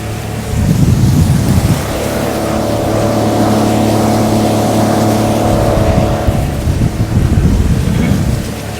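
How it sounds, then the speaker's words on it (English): An outboard motor drones steadily on a pontoon boat heading into the wind, with low rumbling and wash as the hull cuts through the water, loud and close throughout. "Cutting through the water a lot more smoothly."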